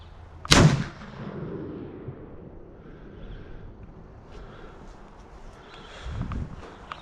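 A LeMat revolver's shotgun barrel, a 62 caliber, fires a single round ball with one loud, sharp blast early on, followed by a fading outdoor echo and wind rumble.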